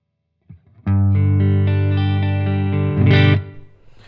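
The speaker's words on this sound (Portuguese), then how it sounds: "Então aqui eu tô no Micro Switch no modo Room, né? Reverb de sala." A clean electric guitar through an Ocean Verb reverb pedal in room mode plays a single loud sustained chord that rings for a few seconds, ends with a brief scratchy strum and then fades into a short reverb tail.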